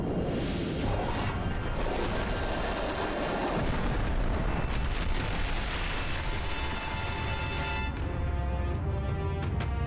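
A torpedo launches and explodes in an Avatar: The Last Airbender animated episode, heard as a loud, continuous, booming roar of blasts and debris that fills the whole stretch.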